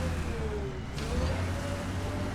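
Vehicle tires rolling over sand in Mass Effect: Andromeda, a steady close rumble with a rising and falling engine whine running throughout, no talk.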